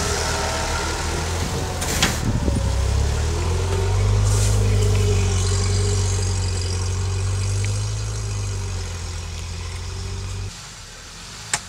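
An off-road vehicle with its front axle differential locked grinds along under steady engine load, a loud, close low drone that swells and then eases off, with a couple of sharp knocks and clanks along the way.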